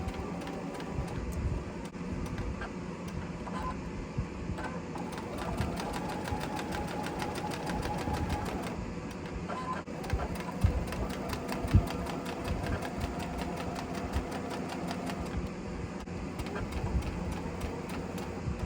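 A sewing machine stitches quilt fabric strips in a steady rapid mechanical chatter that runs on and off in long stretches, with small clunks between runs and no voices.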